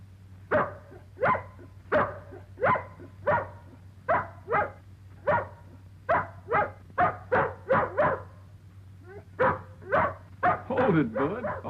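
A dog barks repeatedly in short, evenly spaced yelps, then breaks into higher whimpering whines toward the end, close up over a low hum.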